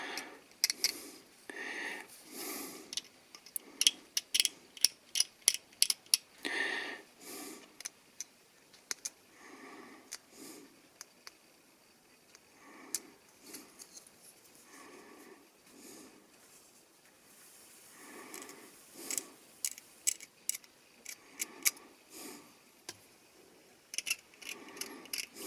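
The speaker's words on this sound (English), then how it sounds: "I'm just going to go through with my number 1 X-Acto knife, do a bit of a scrape" A number 1 X-Acto knife scrapes the sharp edges off a 1:35 scale Tamiya plastic figure of a German soldier. Quiet, close, repeated short scraping strokes in irregular bursts, with faint clicks and handling noise between them.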